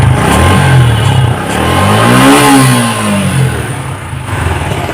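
A used 2021 Suzuki Gixxer Monotone motorcycle engine is given throttle, climbing from idle into one loud, close rev that peaks midway, then falls back to a steady idle.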